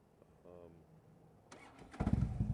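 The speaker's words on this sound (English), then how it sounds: "The Harleys do make a lot of racket." A Harley-Davidson motorcycle engine cranks and catches after a brief moment of speech, then settles into a loud, close rumble in the final half second.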